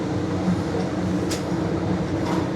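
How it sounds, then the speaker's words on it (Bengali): A Vande Bharat Express running between Bardhaman and Bolpur on the Howrah to New Jalpaiguri route, heard from inside the coach as a steady, loud rumble and roar of wheels on track with no talk. "এই ট্রেন ছুটে চলছে"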